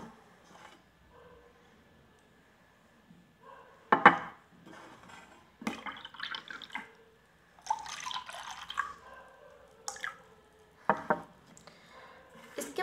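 Ujala drops splashing and being stirred into water, intermittent wet drips and sloshes in short, irregular bursts separated by quiet gaps, fairly close and clear.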